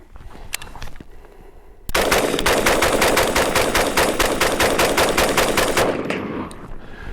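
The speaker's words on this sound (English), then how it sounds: "10 rounds right off the bat." A Bear Creek Arsenal AR-15 rifle with a complete upper fires a rapid string of loud, close shots in a fast, steady rhythm, stopping abruptly after about four seconds and leaving a ringing outdoor ambience.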